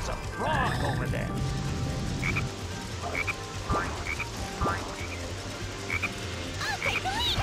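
A frog croaks in the video game Sonic Heroes as several short repeated calls, mixed in with game music, thuds and mechanical clatter, with bits of speech-like sound in the mix.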